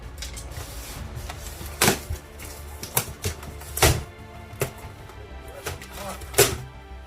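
Tape being pulled and torn off the packaging of a Super 7 ThunderCats Thundertank toy, giving several loud ripping bursts and thumps amid rustling handling noise, with occasional talk nearby.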